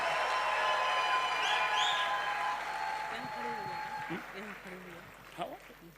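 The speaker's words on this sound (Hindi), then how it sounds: "जोरदार तालियों के साथ स्वागत करेंगे" Applause rattles through a hall for a few seconds, then thins out as a voice begins talking over the fading claps.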